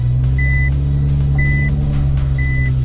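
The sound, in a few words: reversing warning beeps of car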